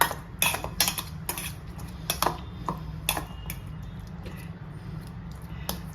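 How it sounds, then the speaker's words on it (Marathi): A spoon mashing cooked red pumpkin in a bowl, with sharp scraping clinks and soft squishing taps in an irregular rhythm, close and fairly loud, no talk. "पहिल्यांदा आपण भोपळा चमच्याने असा स्मॅश करून घेऊया."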